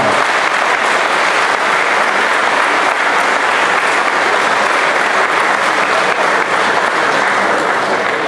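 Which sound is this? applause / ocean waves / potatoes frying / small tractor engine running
applause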